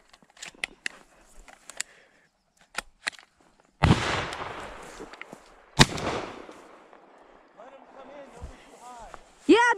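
Shotguns fire while hunting wood ducks on a dammed-up creek, with loud, sharp blasts near four and six seconds amid scattered clicks and people talking nearby.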